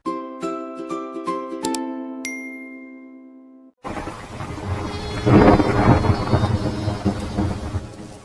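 A cartoon thunderstorm effect: a ringing chime-like sting fades out, then a sudden roll of thunder over steady pouring rain that swells loudly and continues.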